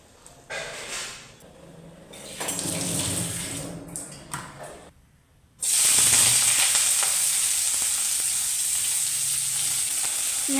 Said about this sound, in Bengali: পেঁয়াজ মোটামুটি ভাজা হয়ে গেছে,